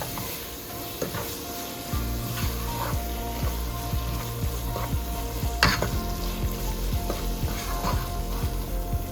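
Mutton masala powder frying in a pan while being stirred, a close continuous sizzle punctuated by repeated scraping and clinking of the spoon against the pan, with no talking.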